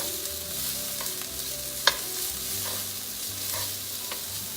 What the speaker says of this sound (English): I'm going to add a little bit of garlic. And that's just to season our pan.